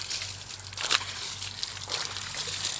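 Water splashing and sloshing while a buffalo is bathed outdoors. The splashing is steady and fairly loud, with a low rhythmic pulsing underneath and no clear talk.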